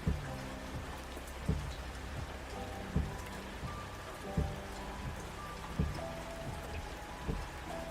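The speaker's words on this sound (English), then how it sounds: "The rain poured harder as we entered the province" Steady heavy rain pours in a dense, even hiss, broken by regular low thuds every second or so, with no voices.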